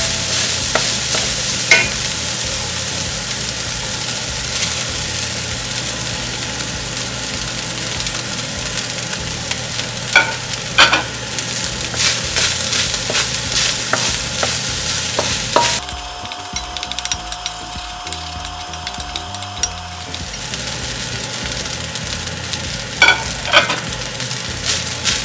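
Garlic and onions sizzle steadily in a pan for a fagioli soup, with scraping stirs and sharp clicks of a utensil, and a denser burst of frying midway through.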